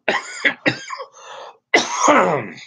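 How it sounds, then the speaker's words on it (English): A series of harsh coughs and throat-clearing bursts, several quick ones followed by a longer, rougher fit after a short pause, close and loud. "so I choke and I cough and everything."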